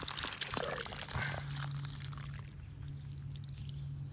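Water pours and trickles from a siphon hose in a quiet, faint stream with a few splashy gurgles early on and a thin steady hum underneath, with no talk.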